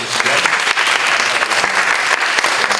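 A church congregation at a Baptist Sunday service claps to welcome visitors, dense continuous applause filling the room with sharp individual claps standing out.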